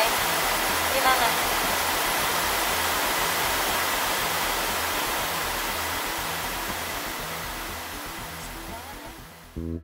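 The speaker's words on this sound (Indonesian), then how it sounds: "Dan ada bonus air terjun juga yang cantik." A loud, steady roar of rushing water from a waterfall beside the Nimanga River in Minahasa, Indonesia fills the scene, broad and continuous, easing slightly toward the end.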